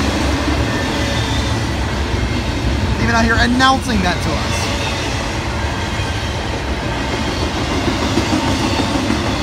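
A long freight train with green-painted cars and bare tables rolls past at steady volume, its continuous rumble carrying a brief burst of wheel squeal near the middle while people talk over it.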